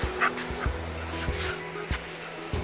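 A dog growls low and steadily in repeated throaty pulses, close by and fairly loud, with no one speaking over it.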